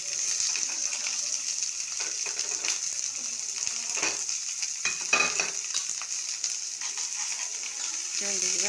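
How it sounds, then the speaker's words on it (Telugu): Garlic and onion fry in a pan with a close, constant crackling sizzle, broken by scraping stirs and small clinks from the utensil. "చూడండి, ఇలా వేగుతూ ఉంటాయి కదా."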